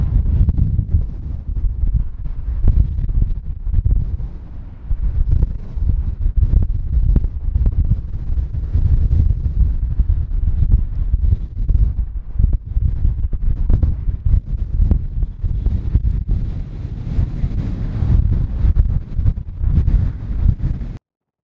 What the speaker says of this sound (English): the wind is blowing us over